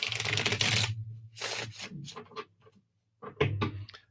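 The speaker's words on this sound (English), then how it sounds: "Let me shuffle these back up here" Tarot cards are shuffled by hand in close, crisp bursts of riffling and sliding, separated by short pauses and a few taps as the deck is squared.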